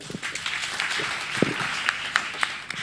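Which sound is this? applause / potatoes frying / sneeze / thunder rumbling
applause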